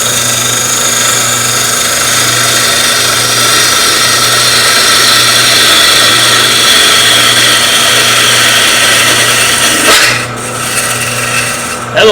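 Wood lathe tool cutting along a turned wooden vase, a steady loud rasping hiss over a low motor hum, ending with a sudden short change as the last standing wood fiber is cut off.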